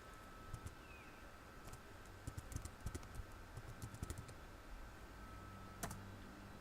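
Someone types a character name for World of Warcraft on a computer keyboard, producing quiet, irregular key clicks in small bursts over a soft background hiss.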